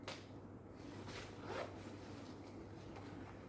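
A small zipper is pulled along a generic zip-top coin purse, a soft scratchy rasp up close that is very faint, with a slightly louder stroke in the middle.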